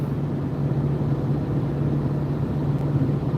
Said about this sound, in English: I'm getting a little road noise in here I don't usually get.